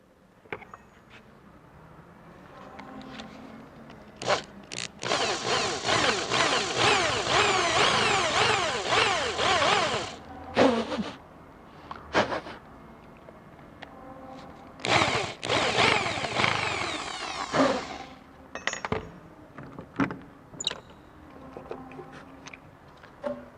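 A portable electric drill bores a hole into a workpiece about 2.5 centimetres thick, its motor whining at close range through two long sustained runs with short starts and stops in between, and no one speaking.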